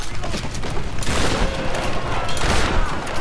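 Shotgun blasts and heavy gunfire from the video game Tomb Raider (2013), loud and continuous, with dense bursts of firing and booms packed close together across the whole stretch.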